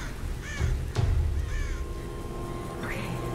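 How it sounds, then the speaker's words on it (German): Ravens in the Tomb Raider video game give a few hoarse caws at moderate distance, with a low rumbling ambience and a thin steady tone running underneath. "Die Raben."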